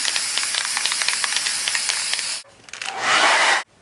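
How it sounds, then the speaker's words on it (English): Aerosol spray can hissing in steady, close bursts as it coats a painted 1/4 scale sculpted head, with a short pause before a louder, denser final blast that cuts off abruptly. "spray it again."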